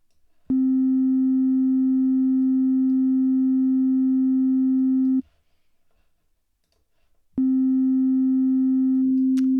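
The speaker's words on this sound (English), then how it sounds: "here it is, just the signal itself" A steady low pure tone hums for several seconds, cuts out into near silence, then resumes just as evenly.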